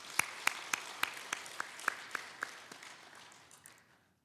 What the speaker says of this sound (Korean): 우리 한번 박수 크게 해드리겠습니다.